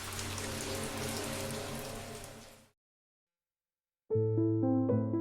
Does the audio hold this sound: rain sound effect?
yes